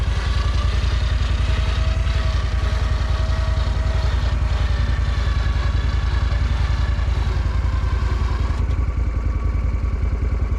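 A vehicle engine runs steadily while driven forward in gear, a loud, close, continuous rumble with a rapid even pulse and faint rattling that holds constant throughout.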